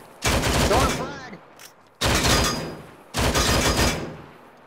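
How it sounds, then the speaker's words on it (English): Three loud bursts of rapid automatic gunfire in a first-person shooter, each lasting close to a second with short gaps between them, heard up close. "You're shooting."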